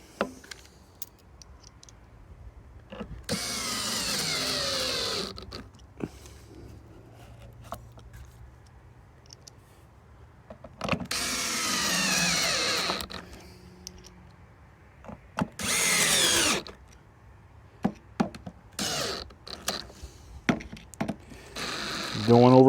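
A power drill whirs in several short bursts, driving screws into a Hayward sand filter dial, with clicks and handling taps from the plastic in the pauses between runs.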